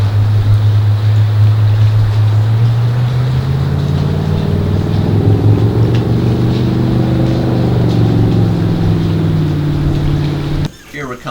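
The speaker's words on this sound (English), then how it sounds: "I love the rumble of the engine." A boat's PCM 351 Ford engine rumbles steadily at idle, loud and close. Its low drone rises in pitch midway as the revs climb, then cuts off abruptly near the end.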